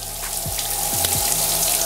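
Wet hair is rubbed and the scalp scratched as water is worked through it, giving close, splashy squelching and dripping with scattered scratchy bursts and no speech.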